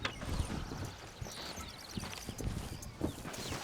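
Hooves clip-clop in a steady walking rhythm in Red Dead Redemption, close and moderately loud over a faint outdoor ambience, with a light jingle of tack.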